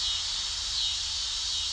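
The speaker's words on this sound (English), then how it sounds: "That's some cicadas singing their summer song here on the old place." Cicadas sing on a summer day at an old country property, a dense, steady, high-pitched buzzing drone that holds unbroken throughout.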